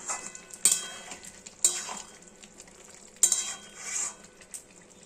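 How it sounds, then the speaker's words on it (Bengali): Ridge gourd, potatoes and pointed gourd stirred in a pan, with three or four sharp metal spoon clacks and scrapes against the pan over a faint simmering hiss. "নেড়ে নিই।"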